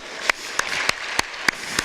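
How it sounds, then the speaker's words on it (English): A small group gives the players a round of slow, evenly spaced claps at a football coaching session, about six sharp, distinct claps with no talking. "Some first applause for these girls because they are working quite hard."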